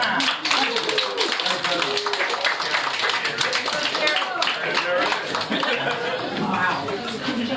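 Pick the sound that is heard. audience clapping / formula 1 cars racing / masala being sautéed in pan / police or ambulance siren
audience clapping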